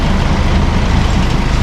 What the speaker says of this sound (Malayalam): ഒപ്പം ദേ റോട്ടിൽ കൂടെ വണ്ടികളും പോകുന്നുണ്ട്